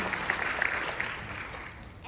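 A brief round of audience applause, a continuous wash of clapping from a crowd that tapers off after a couple of seconds.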